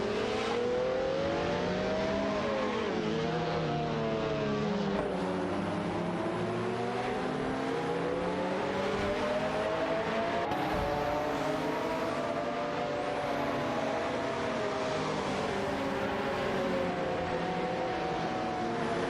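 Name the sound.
race cars including McLaren F1 racing in a racing video game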